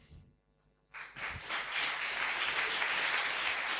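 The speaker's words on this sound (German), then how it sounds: "Applaus" Audience applause after a talk at a Webmontag meetup in Frankfurt, starting abruptly after a quiet moment and swelling into steady, dense clapping from a sizeable indoor crowd.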